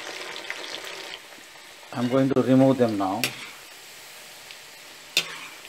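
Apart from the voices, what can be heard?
potatoes frying in oil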